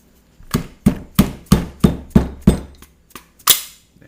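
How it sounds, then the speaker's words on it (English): A hammer taps a part of an AK rifle about nine times in a steady, even rhythm. The knocks are sharp, close and loud, with a final strike after a short pause. "let's give this a little tap with the hammer"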